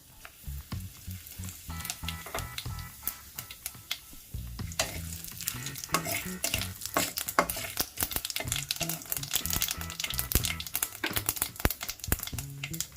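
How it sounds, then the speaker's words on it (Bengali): Bay leaves, dried red chillies and whole cumin seeds crackling in hot oil, a dense, busy sizzle full of sharp pops that grows louder after the spices land, no voices. "এই তেলের মধ্যে আমি দিয়ে দিচ্ছি তেজপাতা, শুকনো লঙ্কা আর গোটা জিরে।"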